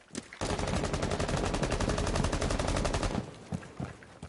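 Automatic gunfire in Rainbow Six Siege: one long, loud, continuous burst of rapid shots lasting about three seconds, followed by a few scattered softer thuds.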